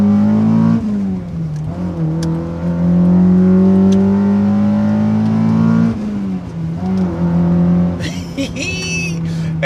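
A Honda Accord Type S's K24 engine revs hard and high to about 7,000 RPM, holding a strained roar, easing off, then climbing again, loud and close with a faint voice near the end.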